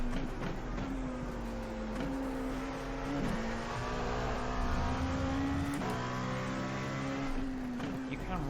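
LMP2 race car in iRacing at Watkins Glen accelerating hard out of corners, turbo engine droning steadily with rising pitch and brief dips at gear changes, loud and continuous throughout.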